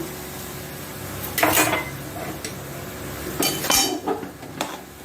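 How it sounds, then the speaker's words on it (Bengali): Spiced cauliflower being stirred in a pan, with a steady background hiss and a few loud bursts of metal spatula scraping and clanking against the pan, close and without talk. "নাড়িয়ে সমস্ত মশলা কপির সাথে মিশিয়ে দেব"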